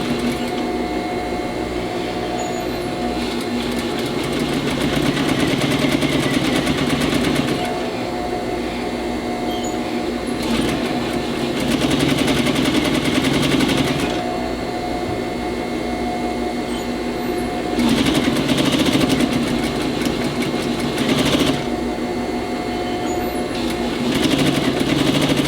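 A sewing machine stitches the hem of a woman's blouse with a steady, close motor drone. The drone swells louder in a few stretches and runs continuously with no talk.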